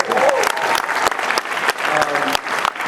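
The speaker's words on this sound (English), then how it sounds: "give her a round of applause" An audience at a VidCon 2013 keynote breaks into dense, loud applause, with many hands clapping continuously and faint crowd voices mixed in.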